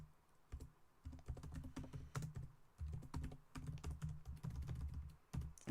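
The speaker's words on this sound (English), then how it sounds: "Apologies for the typing." Rapid typing on a computer keyboard during a live stream, close and fairly loud, with bursts of quick key clicks broken by short pauses.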